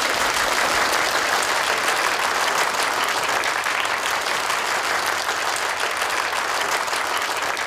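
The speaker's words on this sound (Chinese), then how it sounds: "掌声欢迎顾总" Dense, steady applause fills a gala banquet celebrating a corporation's 20th anniversary as the company president is welcomed to the stage; the clapping is loud and sustained throughout, with no speech over it.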